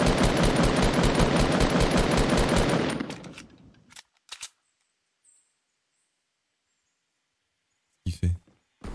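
Gunfire in a video game: a dense, rapid burst of loud automatic shots for about three seconds that fades out, then silence broken by a few sharp clicks and a short late burst.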